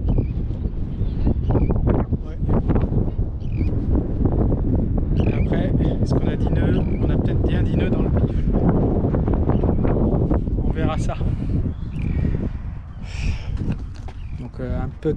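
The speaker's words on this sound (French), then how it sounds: "On a 10 nœuds de vent, donc ça devrait le faire." Steady wind of about ten knots roars and buffets across the microphone aboard a sailboat on the Aulne, a continuous rough rumble with muffled voices underneath.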